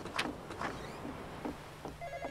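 A telephone rings inside a horror game set aboard a ship, its steady electronic tone coming in toward the end behind clattering game noises.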